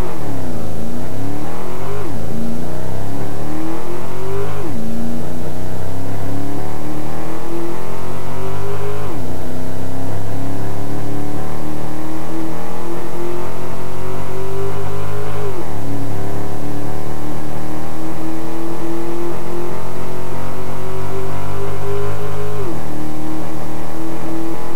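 Synthesized car acceleration sound effect built in Wavepad Sound Editor: a loud engine tone climbs in pitch through several gears, dropping at each shift about every four to seven seconds, with no other sounds.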